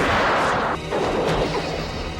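A gunshot in a film scene: a loud, sharp crack-like blast within a dense, noisy soundtrack, followed by a brief second impact and a lingering rumble.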